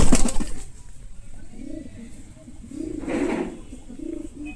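European Lahori pigeons coo in low, soft repeated bursts, several rounded calls close by in a quiet setting, with a brief sharper rustle at the start.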